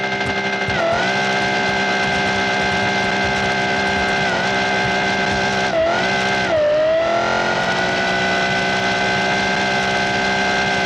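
A V12 engine in an F-150 truck drones steadily in BeamNG, a loud, sustained, buzzing tone that dips briefly at gear changes before climbing again, with no talk.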